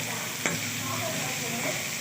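Toor dal (split pigeon peas) fries in a pan with turmeric, giving a steady close sizzle and hiss with a faint stir scrape.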